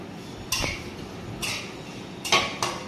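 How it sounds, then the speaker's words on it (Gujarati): A spoon stirs asafoetida in a pan with a few sharp metallic taps and scrapes, spaced apart over a quiet background, with no talk. "થોડી હિંગ નાખી અને આપણે હલાવીશું"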